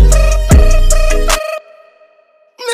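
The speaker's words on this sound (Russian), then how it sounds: "там где-то звонит телефон" Somewhere nearby a telephone rings in short repeated electronic bursts over heavy bass and thumping, which then cut off into near silence before a brief last burst.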